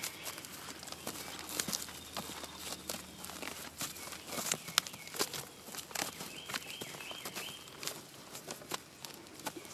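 Horse stepping backwards, hooves thudding and scuffing softly on the ground in an uneven series of light steps, faint and close, with small rustles around them.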